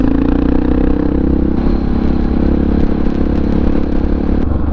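Honda XR650R motorcycle ridden slowly at about 26 mph, its single-cylinder engine thumping steadily up close with rattling clatter, a slight shift in tone midway.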